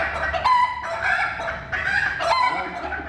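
A chicken clucks and squawks in several loud, close bursts while being handled and prepared for poultry exhibition.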